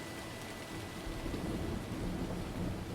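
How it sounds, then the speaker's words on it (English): Thunderstorm ambience in a Minecraft recreation of EPCOT's Living with the Land ride, with steady broadband rain and rolling thunder that swells after the first second and stays loud throughout, no talk. "The approaching storm may seem violent and destructive to us"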